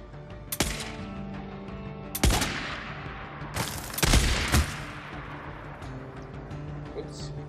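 Gunfire in the video game Days Gone, with several sharp shots spaced out over a few seconds, one near 0.6 s, another near 2.2 s and a cluster around 4 s, over a continuous low game backdrop with faint voices.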